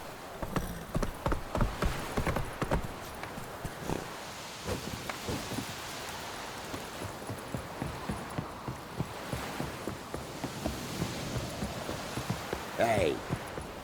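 Roach, the horse in The Witcher 3, clip-clops steadily through the game world, its hoofbeats moderately close and rhythmic, slowing toward the end, with someone speaking over them.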